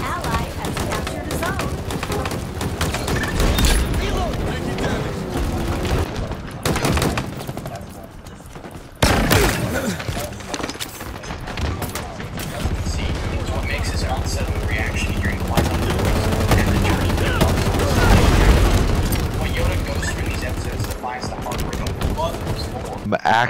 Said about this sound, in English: Shooting at this Banshee on sunny side.